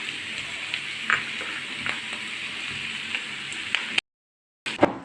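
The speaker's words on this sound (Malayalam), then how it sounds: "ഒരു 2-3 വെളുത്തുള്ളി പൊടിയായിട്ട് അരിഞ്ഞത്, ഒരു ചെറിയ കഷ്ണം ഇഞ്ചി ഇതിനകത്ത് ഇട്ട് കൊടുക്കണം" Minced garlic and a small piece of ginger fry in coconut oil for chilli pork, a steady close sizzle with scattered crackles and pops and a brief break of silence near the end.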